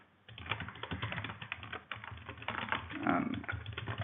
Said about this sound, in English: at the same time that I'm typing this information in